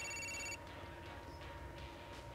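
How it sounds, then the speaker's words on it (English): A telephone rings in GTA IV with a bright electronic trill that lasts about half a second and then cuts off, leaving quiet game ambience behind it. "The phone's ringing."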